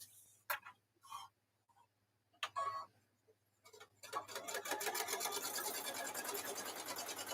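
A sewing machine stitches a quilted handbag. A few scattered clicks and handling taps come first, then the motor starts and runs steadily in a fast, even rhythmic chatter that carries close to the end.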